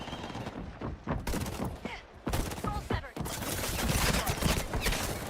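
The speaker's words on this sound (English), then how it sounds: "They're shooting at me." Gunfire in the video game Highguard, rapid fusillades and machine-gun bursts crackling through busy game noise, fairly loud, with voices talking over parts of it.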